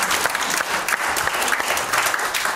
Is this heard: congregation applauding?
yes